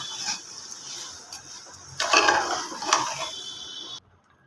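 Rice tipped into a pot of browned meat and stirred, with scraping, clinking utensil strokes against the metal pot, louder bursts in the middle, then stopping abruptly.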